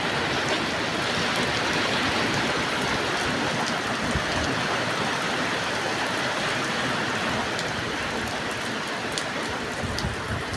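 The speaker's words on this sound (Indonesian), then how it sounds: "Nah, hujan lebat." Heavy rain pours steadily and loudly, a dense unbroken hiss of drops drumming on surfaces that stays constant throughout.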